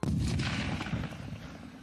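An RPV-16 rocket flamethrower fires once with a loud blast, its rumbling roar fading over the next couple of seconds.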